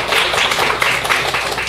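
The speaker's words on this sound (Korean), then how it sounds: "박수." An audience at a literary book reading event claps in a brief, dense, steady round of applause lasting under two seconds, with no talking over it.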